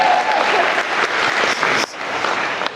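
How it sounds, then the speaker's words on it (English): Wedding guests clap and cheer for the bride at an evening reception, a loud, dense burst of applause with a few whoops rising briefly near the end. "Get a round of applause for Haley"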